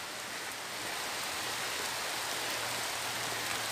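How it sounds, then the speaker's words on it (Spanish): Steady rain falls over the Mixteca countryside of Oaxaca, a soft, even hiss of drops that holds at a constant low level with no voices. "Así se ve la campiña mixteca, lloviendo,"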